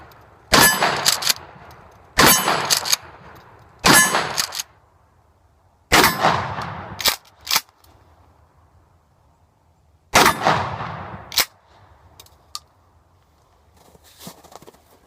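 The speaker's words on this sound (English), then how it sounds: "Let's head on over to those beautiful steel AR 500 steel hard targets by hard target and put some of these pellets on those." Shotgun pellets from a Mossberg Shockwave strike AR500 steel hard targets outdoors, producing five loud shot-and-clang bursts with ringing tails at irregular intervals, followed by a few fainter metallic pings.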